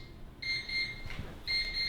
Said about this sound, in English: the oven's gone off and it will give you 9 beeps